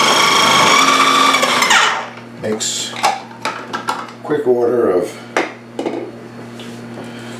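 A food processor shreds cabbage for homemade sauerkraut, starting as a loud, close motor whir that stops after about two seconds, then giving way to clattering knocks and scrapes of the machine being handled while a person talks.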